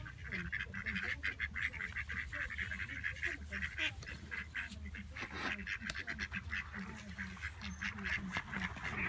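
Ducks quack in a steady chatter near swans at Stoke Bardolph, a busy outdoor flock calling continuously at close to moderate range, with honking mixed in and faint voices in the background.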